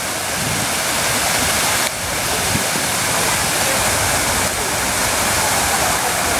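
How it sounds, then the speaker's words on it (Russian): A white marble fountain in a garden, with its water splashing in a steady, loud, continuous rush that fills the whole stretch without pause. "И такой красивый фонтан, весь сделанный из белого мрамора."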